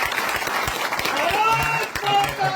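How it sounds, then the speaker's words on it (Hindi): Audience applause at a BJP headquarters gathering welcoming a senior Congress leader into the party, dense steady clapping through the whole clip with voices mixed in. "जोरदार तालियों से उनका स्वागत किया।"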